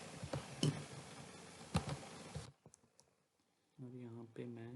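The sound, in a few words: computer keyboard keys being pressed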